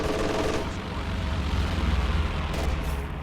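Aircraft anti-infantry strafing run in a World War II strategy video game, a dense continuous rattle of machine-gun fire and booming impacts, loud and unbroken throughout.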